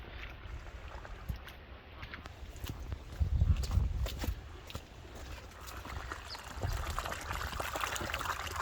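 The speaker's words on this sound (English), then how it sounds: "There's gopher holes everywhere, pouring water like this, creating a river." Rainwater gushes out of gopher holes in the ground and runs off like a small stream, a soft continuous trickle and pour with a few heavier splashy bursts.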